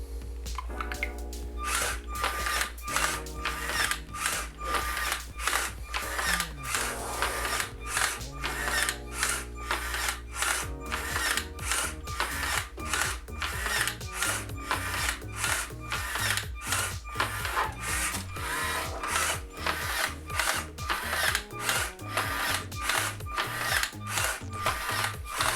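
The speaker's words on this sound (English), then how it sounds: "in between these movements we move motor D to tilt the bug so it can walk" LEGO MINDSTORMS motors driving a walking bug robot, one motor tilting the body: repeated mechanical whirring bursts with clicking plastic gears and tapping legs, a steady rhythmic stop-start pattern up close for the whole stretch.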